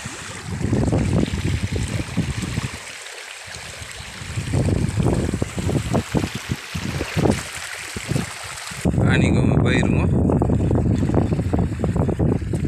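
Rainwater rushes through flooded village fields as a continuous low watery roar, heavily buffeted by wind noise on the microphone, growing louder toward the end.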